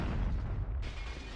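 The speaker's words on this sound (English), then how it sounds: "Random explosion." Explosion in the video game Halo 1: a dense, rumbling blast with a broad low-frequency boom that fills the short moment and slowly settles.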